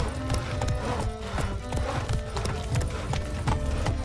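Horse hooves clip-clopping in The Witcher 3, a loud, steady, rhythmic clatter of hoofbeats on a hard surface, continuing throughout with game background sound beneath.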